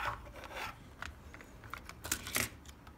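An opened DualShock 4 controller being flipped over by hand, quiet close plastic rubs and clicks in short bursts, with a louder handling knock near the end.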